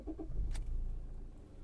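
A 2014 Toyota RAV4's 2.2-litre D4D diesel engine cranks briefly and catches, settling into a steady low idle rumble close by.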